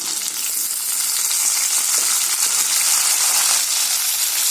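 Tomatoes sizzle steadily in a pan with onion and garlic for a Tamil vathal kuzhambu, a dense continuous frying hiss at a constant close level with faint stirring scrapes and no voices.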